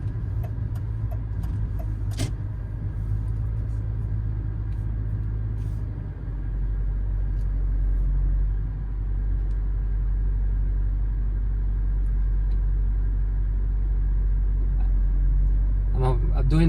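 Interior drone of a 1995 BMW E31 840ci on the road: a low, steady engine and road rumble fills the cabin, with a few sharp clicks and a louder stretch partway through.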